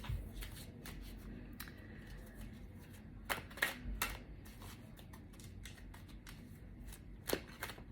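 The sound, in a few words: tarot cards being shuffled to pull a card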